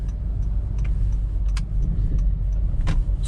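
Engine of a fourth-generation Honda City VX with a manual gearbox heard from inside the car while driving, a steady low rumble with faint clicks and rattles, no talking.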